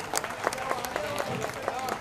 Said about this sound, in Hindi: एक बार सभी महिलाओं के लिए एक बार जोरदार ताली बजा दीजिए